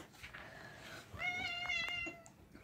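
A cat tucked under a blanket gives a faint short meow and then a longer, drawn-out plaintive meow, muffled and close, with no voices.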